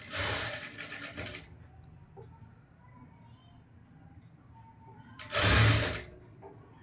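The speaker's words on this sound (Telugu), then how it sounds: "చూడండి, ఇంత ఈజీ పద్ధతిలో కుట్టేయచ్చు అనమాట వర్క్ బ్లౌజెస్." A sewing machine stitches a blouse in two bursts, a longer run at the start and a shorter, louder run near the end, with small clicks and handling noises in the quiet between.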